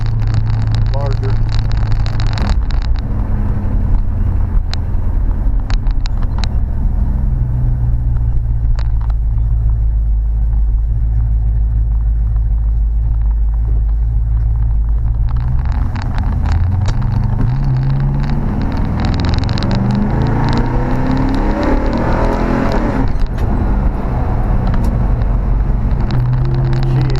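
A Plymouth Fury with an upgraded Mopar 383 V8 drives along, its loud, deep engine rumble running throughout and swelling into rising revs partway through as the car accelerates, with the cabin close to the engine.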